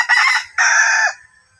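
A red junglefowl rooster crows nearby in two loud, drawn-out calls of about half a second each, separated by a short gap and trailing off at the end, with no voices.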